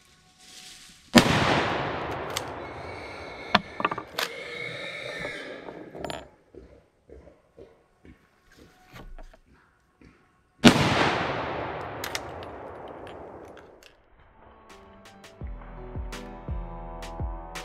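Two sharp, loud rifle shots ring out several seconds apart during a wild boar hunt, each followed by a long echoing decay, with quieter rustling and clicks between them.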